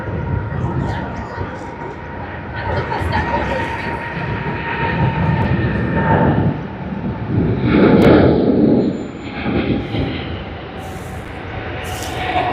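A Boeing 777 rolls down the runway for takeoff at Sydney Airport, a broad, steady jet engine roar that swells near the end. Someone talks over the sound throughout.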